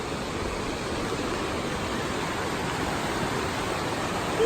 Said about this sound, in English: Got a little roadside waterfall action.